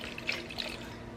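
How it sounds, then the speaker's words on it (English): Treated water dribbles softly onto a paper towel being wetted as bedding for a rescued wild animal, a faint close trickle with a couple of small splashes and no talk. "I am wetting the paper towel using the treated water"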